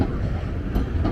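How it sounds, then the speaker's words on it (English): An illuminated tram rolling along its rails in Blackpool, a close, steady low rumble with faint wheel clatter throughout the short stretch. "It's the first illuminated tram I've seen this year."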